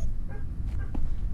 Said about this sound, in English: I could have sworn I heard a dog.